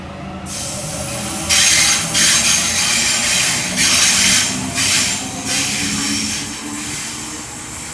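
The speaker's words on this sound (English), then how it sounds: "We have A31 now departing, platform number 1, Penrith service." A Penrith service train departs Mount Ku-ring-gai station platform with a loud, steady rumble and hiss, swelling in surges of high-pitched wheel and rail noise as it pulls away.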